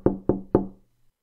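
Three sharp knocks on a door in quick succession, close and fairly loud, each with a short resonant decay, followed by silence.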